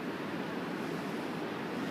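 Ocean surf at an Oregon beach at sunset rolls in as a continuous broadband wash, steady and fairly loud, with wind-like rumble and no voices.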